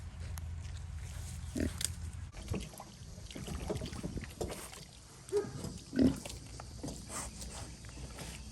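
An Idaho Pasture Pig on a farm gives short, low grunts at irregular intervals, close by, over soft wind and outdoor background noise.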